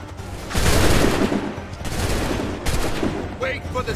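Musket volleys crack out in an Assassin's Creed III battle scene, with dense overlapping gunfire in loud bursts and a noisy rumbling background, as if soldiers fire together in lines.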